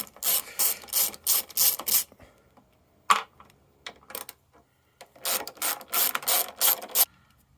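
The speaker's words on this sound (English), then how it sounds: "Take this line of bolts off first. I think they're 10 mil." A hand ratchet undoes a line of 10 mm bolts on a 1994 Jaguar XJS V12, fast bursts of sharp clicking in two clusters separated by a pause with a few isolated clicks, close and without talk.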